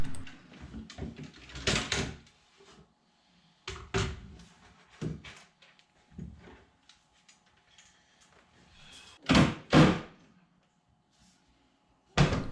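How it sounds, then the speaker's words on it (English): Kitchen cabinet doors are refitted to their cabinets with a series of separate wooden knocks, clunks and handling sounds spaced across the span. Quiet gaps fall between them, and no one speaks. "Here I'm reinstalling this batch of doors."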